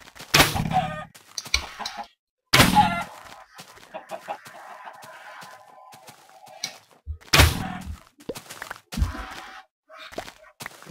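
Chickens in the video game Minecraft cluck in short bursts, with several loud clucks and softer game sounds between them.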